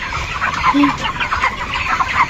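Chickens cluck and chatter close by at a broiler poultry farm, a continuous busy flock with overlapping calls throughout the short stretch.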